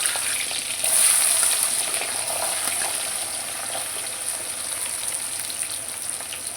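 Small shallots fry in hot oil as the base for a bat-fish curry, giving a dense, even hiss like steady rain that swells briefly near the start and continues alone without talk.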